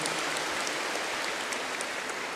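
A congregation applauding at a Catholic Mass, a soft, even wash of many hands clapping that sounds distant and faint, continuous throughout with no voices over it.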